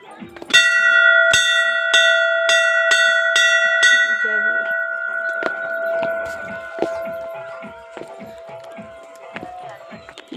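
Bell ringing at a satsang hall, a bright metallic bell struck in a steady series of clangs whose ringing tones linger and overlap, then fading into scattered knocks and background activity.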